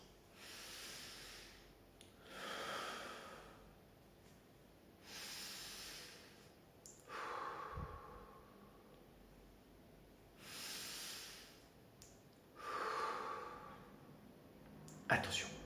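Slow, deep breathing exercise: several long in-and-out breaths, each a soft airy hiss lasting a second or two, spaced a few seconds apart and close to the mic, with quiet gaps between.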